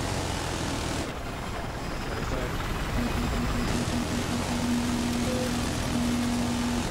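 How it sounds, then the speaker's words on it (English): Battlefield 4 helicopter in the Siege of Shanghai map, a steady droning rotor and engine rumble with a sustained tonal whine, loud and constant amid game noise, with a voice heard at one point. "Chopper on our right, right?"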